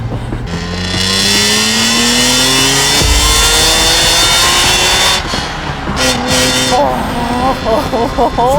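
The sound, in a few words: BMW E46 M3 engine revving with manual gearbox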